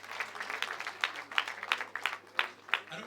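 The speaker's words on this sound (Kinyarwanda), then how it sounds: "bakumpera amashyi cyane babampera amashyi" An audience at a community gathering in Kigali, Rwanda, claps in a steady, rhythmic patter that sounds faint and somewhat distant.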